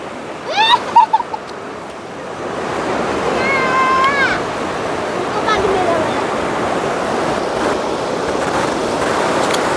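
Sea waves washing onto Murud beach near Dapoli on the Konkan coast make a steady broad surf wash, with voices and brief high-pitched calls heard at the start.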